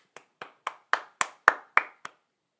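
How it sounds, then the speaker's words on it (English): Eight single hand claps spaced evenly at a steady beat, close and crisp, growing louder toward the middle then easing off, with nothing else heard. "round of applause."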